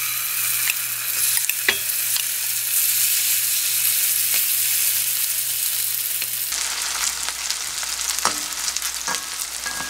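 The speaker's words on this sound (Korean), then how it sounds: "밖에서 사드시는 전에는 기름이 넉넉히 들어가서 아주 약간 튀기듯이 자글자글하게 굽거든요." Acorn jeon batter frying in a generous amount of oil in a pan on low heat, a steady crackling sizzle that runs through the whole stretch, with a few sharper pops and a slight change in tone partway through.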